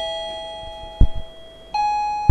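Two bell tones mark speaking time in a formal debate as a one-minute warning, the first ringing out near the start and a second strike ringing at about 1.7 seconds with a sustained, decaying resonance. A brief thump falls between them.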